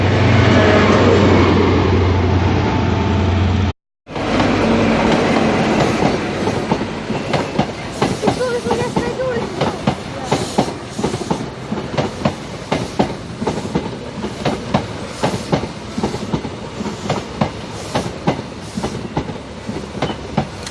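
An HST train passes at Exeter St Davids station, a loud close engine roar giving way to a rapid rhythmic clickety-clack of wheels over rail joints as the carriages roll by without pause.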